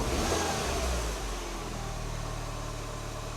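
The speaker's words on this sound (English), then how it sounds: "This thing revs up well." Cheap Mini Cooper fitted with a £100 replacement engine, revving loudly up close in a brief burst and then holding a steady, slightly lower engine drone, with no talking.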